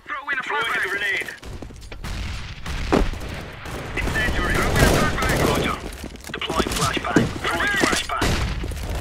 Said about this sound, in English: I am throwing a flashbang. Throwing a grenade.